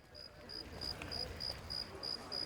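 Crickets chirping indoors in a Fallout: New Vegas game session, a high, steady run of pulsing trills repeating several times a second, soft and continuous over faint background noise.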